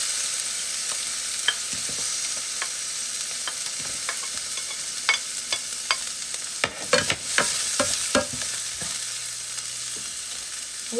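Onions for Bicol express fry in hot oil with a steady close sizzle, broken by repeated scraping and stirring clicks of a utensil against the pan.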